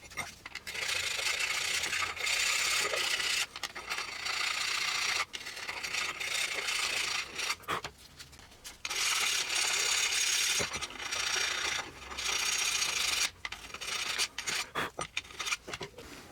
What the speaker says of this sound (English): then we're going to go through it with a file